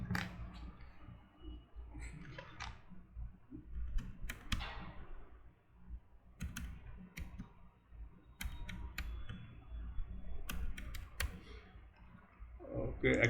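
A card number typed on a computer keyboard, with scattered bursts of light key clicks and pauses between, close and quiet over a low background hum.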